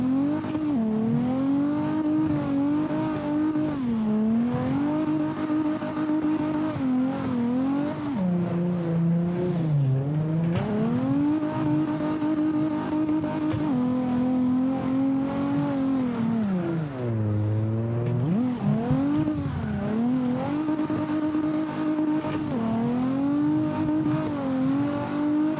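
A video game car engine from CarX drones continuously, its pitch rising and falling as it revs up and eases off repeatedly, loud and close with no voices.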